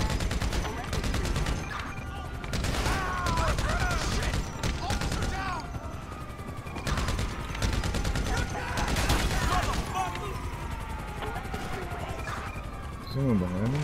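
Rapid gunfire in GTA 5 amid street combat: dense, sustained bursts of shots, loud and near, with short pauses between volleys, under excited talk from players.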